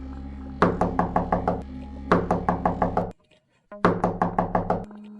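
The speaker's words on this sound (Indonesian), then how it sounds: "Lalu 3 ketukan kembali terdengar. Kali ini sedikit lebih kasar." Rough knocking on a door in a boarding house, three rapid bursts of sharp knocks, each several raps long, close and loud, with a short silent pause before the last burst.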